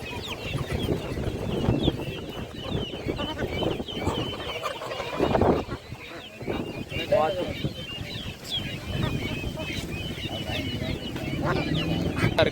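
Chickens cluck and squawk among other fowl at a busy Tuesday chicken and goat market, the birds close and insistent while people talk and bargain over them.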